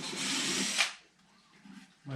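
A power drill whines briefly at high speed during a RANS S-21 rudder build, stopping abruptly, followed by faint workshop shuffling.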